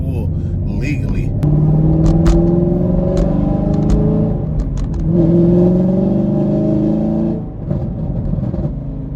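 Heads-and-cam Camaro accelerating hard onto a highway, the engine a loud, rumbling roar climbing steadily in pitch across two gear pulls heard from inside the car, with a short break for the shift.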